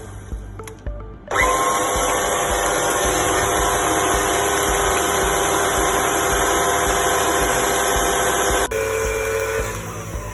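A stand mixer with a paddle attachment beats eggs into butter, starting after a brief pause into a loud, steady motor whine with a rhythmic churning undertone, then shifting pitch near the end.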